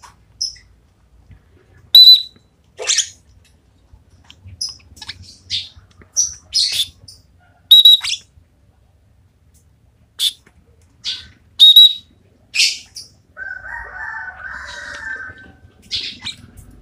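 A trainer's whistle and a lovebird's chirps come in sharp, bright bursts scattered across a quiet room, with several short high tweets and whistles, then a longer warbling call near the end.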